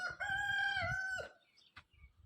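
A rooster crows once, loud and close, a long sustained call that breaks off, followed by faint clattering.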